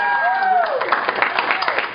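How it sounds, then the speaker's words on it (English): Audience applause at a comedy show, a scattered patter of clapping that builds over the second half beneath a voice talking over it. "Round of applause for Lucky Larry."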